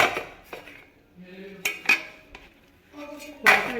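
A metal pot of semolina soaked in milk gets covered with a lid in a home kitchen, giving a few sharp clinks and scrapes of metal on metal in separate bursts, close and fairly loud, with no talk over them.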